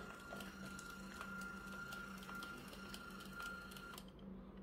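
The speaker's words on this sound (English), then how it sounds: "using my trusty label maker to add a label to the bottle" A handheld label maker whirs steadily while printing a label for a perfume decant bottle. The sound is a faint, close mechanical hum with a regular ticking feed that stops after about four seconds, and no one talks over it.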